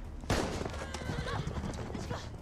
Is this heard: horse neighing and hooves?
yes